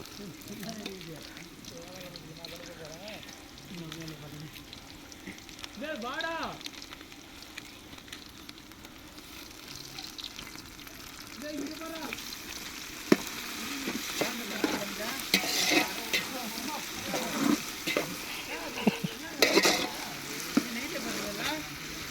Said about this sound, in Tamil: இப்போ வந்து இஞ்சி பூண்டு பேஸ்ட்டு போடுறாரு எங்கள் அண்ணன்